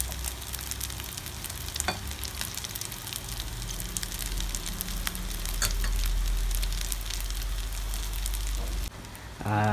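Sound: frying cakes made from leftover rice in a pan

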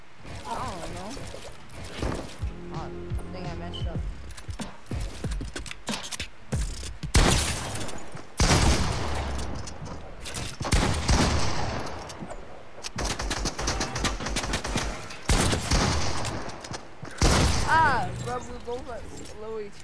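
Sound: gunfire in the video game Fortnite

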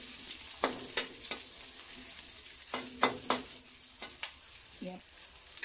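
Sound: onion added to a hot pan, sizzling

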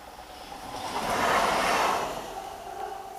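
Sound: train passing

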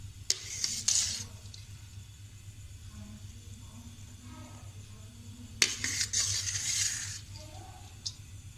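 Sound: adding boiled rice to korma in a pot

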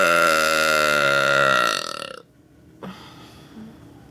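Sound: burp

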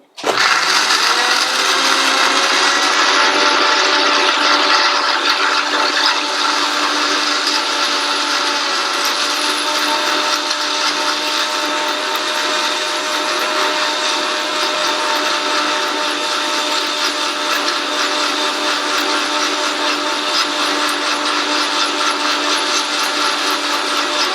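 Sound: mixer grinder grinding pudding ingredients with water

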